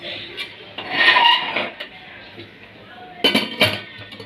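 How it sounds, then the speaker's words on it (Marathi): A metal lid is set onto a pressure cooker pot holding a little water, giving two bursts of close, clattering metallic clinks and scrapes separated by a quieter stretch of kitchen background. "आता मी ढाकण लावते."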